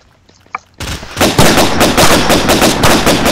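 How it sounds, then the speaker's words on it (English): Rapid bursts of automatic gunfire in the video game Combat Extreme, erupting suddenly after a near-silent moment and continuing as loud, dense, rattling volleys. "Ow, you shot me."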